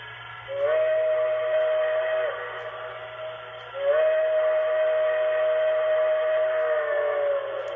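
Two long steam whistle blasts from a BLI T1 2-10-4 model train locomotive with sound decoder, each a steady sustained tone with a brief rising start, sounding close and loud over a faint electrical hum.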